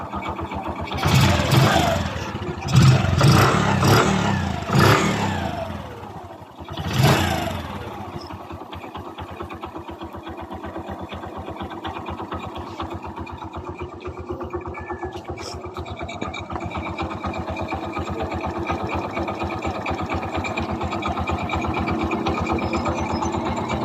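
A Kawasaki Bajaj CT 100 motorcycle engine is started with a few loud revs and then settles into a steady, close idle.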